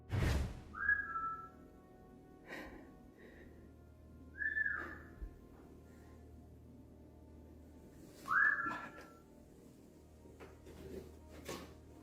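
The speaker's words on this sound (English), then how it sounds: "A whistling sound pulls him toward one of the rooms on the left side of the apartment." Whistling drifts through a quiet apartment: three separate short rising whistles spaced several seconds apart, faint and slightly distant, with occasional soft knocks and clicks between them.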